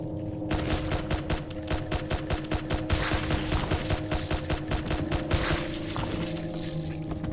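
Rapid gunfire in the video game Flesh Made Fear, a long sustained burst of automatic shots rattling in a fast even rhythm with clinking casings, loud and continuous throughout.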